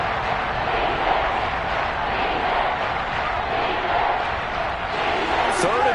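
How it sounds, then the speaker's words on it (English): A stadium crowd at an NFL divisional playoff football game roars continuously, urging on their defense with a dense, steady wall of cheering under a play-by-play commentator's voice. "This crowd urging on their defense. They're up and making noise."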